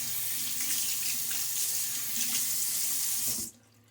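Tap water runs steadily into a sink to rinse a safety razor during a shave, a close, continuous hiss that cuts off abruptly near the end, leaving quiet room tone.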